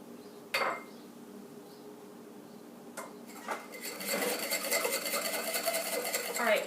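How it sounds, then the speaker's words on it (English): Whisking olive oil into a homemade salad dressing in a bowl: a couple of light clinks at first, then a brisk, continuous scraping and clattering of utensil against the dish, close and moderately quiet. "now we're going to add 5 tablespoons of olive oil and just continue mixing"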